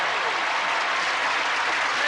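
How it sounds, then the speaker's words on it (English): Studio audience at a television game show applauding as the celebrity panelists are greeted, a continuous, fairly soft wash of clapping without pause. "A little applause for the stars there."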